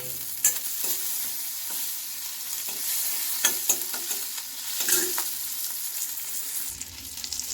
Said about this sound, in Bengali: বাটারটা গুললে তার মধ্যে একটু রসুন, একটু আদা দিলাম